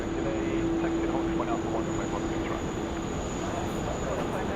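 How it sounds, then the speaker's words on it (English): A Boeing 737 taxis at an airport, its engines a steady, distant broadband rumble and whine that holds level without rising or fading. "we've got the 737 now taxiing"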